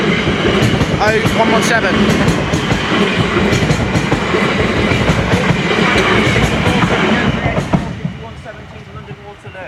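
A Class 450 electric train rumbles loudly through the Farnham Station level crossing in Surrey with a continuous roar and clickety-clack of wheels over rail joints, fading slightly near the end as someone speaks briefly over it.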